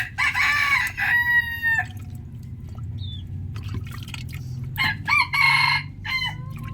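A captured red junglefowl (labuyo) rooster crows several times in short, sharp bursts, with clucks between, close and fairly loud over a low steady background hum.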